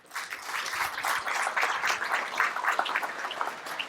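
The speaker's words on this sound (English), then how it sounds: "Thank you for the applause." Audience applause fills a meeting room at a town strategic planning retreat, a steady wash of many hands clapping close and loud for nearly four seconds, with no talk over it.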